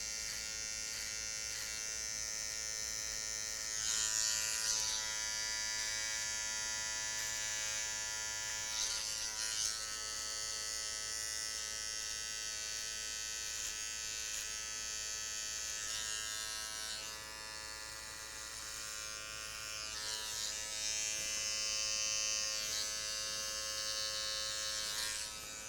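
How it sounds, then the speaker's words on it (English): Electric hair clippers trim and angle a man's sideburns during an undercut haircut, a close, continuous high buzz that swells and dips slightly as the blade moves. "The clippers are sharp enough, you're going to get that anyway"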